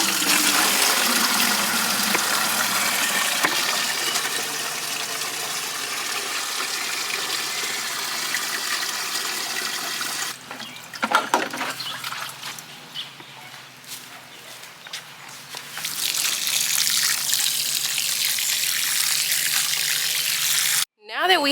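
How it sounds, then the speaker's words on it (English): Rainwater gushes from the tap of a garden rain barrel in a steady, close pour that eases and splashes unevenly midway, then swells again before cutting off abruptly. "I'm going to come over to my rain barrels, get some rainwater"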